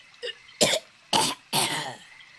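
An old man in a Bengali village story, with a cold, coughs several times: a short throat-clearing hack followed by three harsh, loud coughs spaced about half a second apart, close and alone.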